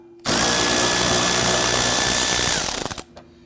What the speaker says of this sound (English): I want to go ahead and loosen and remove this bolt.